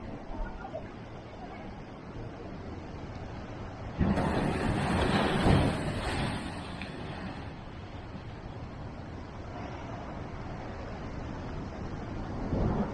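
Ocean waves crash and roll on the Cornwall coast, a broad roar of surf with a louder surge near the middle over steady wind noise, with faint voices in the background.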